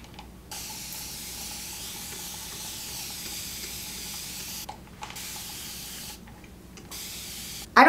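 Spray bottle mists water onto damp wavy hair: long continuous hissing sprays close to the ear, broken by two brief pauses, ending in a sharp rustle, with no talk.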